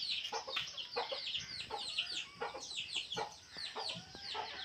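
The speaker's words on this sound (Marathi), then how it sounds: "अशा आपल्या 6 कोंबड्या आहेत." Several native country hens cluck and chatter in a backyard coop with egg-laying spots, the clucks coming in quick, overlapping bursts close by throughout.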